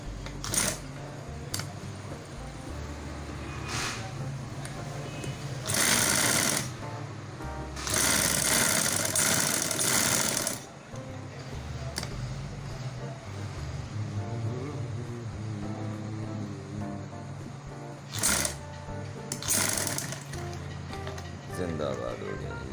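A sewing machine stitching a pocket on a gents salwar, running in several short and longer whirring bursts with pauses between, while people talk throughout.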